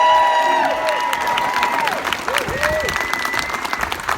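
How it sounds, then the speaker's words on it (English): A crowd at a Scranton, Pennsylvania healthcare rally applauds and cheers loudly and steadily throughout, with a few whistles rising above the clapping. "how about another round of applause for Senator Bob Casey?"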